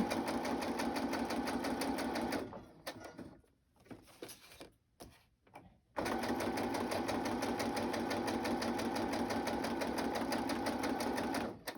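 A sewing machine stitches steadily through layers of a file folder journal, with a loud continuous run that stops for a few seconds of fabric handling and quieter pauses before resuming at full pace.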